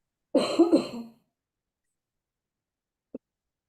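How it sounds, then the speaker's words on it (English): A single throaty cough burst up close, followed by silence and then one tiny click near the end. "when you need to cough, bring it out"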